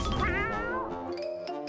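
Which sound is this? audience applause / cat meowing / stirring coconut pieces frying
cat meowing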